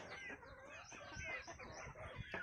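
Chickens on a goat farm give quiet, overlapping clucks and short throaty calls, faint and somewhat distant, with no voices.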